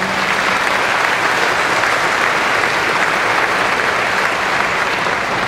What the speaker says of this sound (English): So please give my students a round of applause.